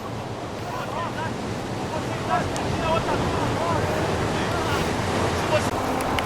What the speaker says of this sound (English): Here's looking down the beach, out there in the water in the waves.